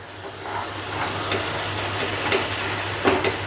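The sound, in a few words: continuous stirring of thickening milk for kalakand sweet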